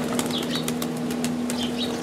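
A large pigeon, shown among fancy pigeon breeds, flaps its wings in a quick run of soft fluttering beats, repeated across the moment over a steady background hum.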